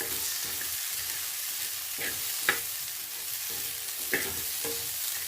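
Steady sizzling of capsicum frying in a pan, with a few soft scraping stirs breaking through the continuous hiss.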